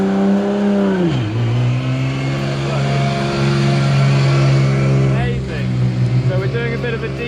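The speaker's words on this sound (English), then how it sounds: "take a look at some of these rally cars going past" Rally cars driving past on an Alpine mountain road, heard from inside a car as an engine drone drops in pitch and other engines roar by, with a voice talking over the sound.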